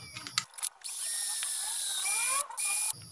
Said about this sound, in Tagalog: Bubutasan ko lang muna siya ng maliit.